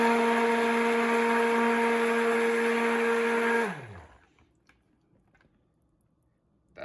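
A hand blender whirs steadily and loudly while mixing lye soap batter to trace, then winds down and stops, leaving quiet room tone with faint clicks.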